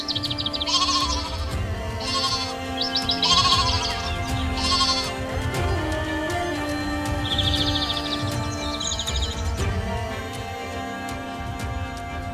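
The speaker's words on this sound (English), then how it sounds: "Herds of goats and sheep graze on the lush green pastures." Herds of goats and sheep graze on lush green pastures around the village of Kandovan in Iran, bleating now and then over a steady outdoor background hum, with several calls rising clearly at mid distance.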